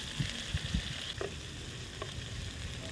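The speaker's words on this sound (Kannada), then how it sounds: "ಇದನ್ನೆಲ್ಲ ಹಾಕಿ ಹಸಿ ವಾಸನೆ ಹೋಗೋ ತನಕ ಚೆನ್ನಾಗಿ ಫ್ರೈ ಮಾಡ್ಕೋಬೇಕು." Turmeric, mint and chopped coriander fry in a pan with a faint, steady sizzle and a few soft scraping stirs near the start, quiet and without talk.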